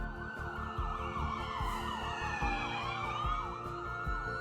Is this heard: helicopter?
no